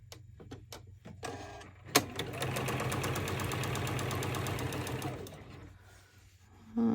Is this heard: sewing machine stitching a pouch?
yes